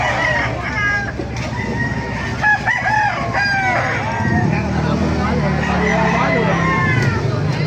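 Roosters crow repeatedly through a steady din of clucking poultry at a gamefowl gathering in Baliuag, Bulacan, Philippines, and people talk close by underneath the birds.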